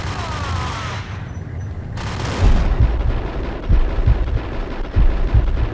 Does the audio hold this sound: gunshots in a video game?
yes